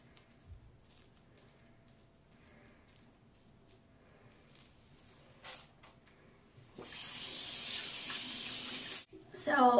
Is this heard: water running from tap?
yes